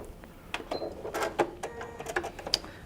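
A sewing machine runs a short back stitch on a Christmas stocking, making a brief burst of quick mechanical whirring and ticking with a couple of clicks. It is close and moderately quiet, with no talk.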